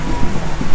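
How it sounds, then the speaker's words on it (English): Steady rain falling and spattering on surfaces during an outdoor qigong gathering, a dense continuous hiss with soft drop patter throughout, fairly close and even in level. "So we're going to celebrate the rain."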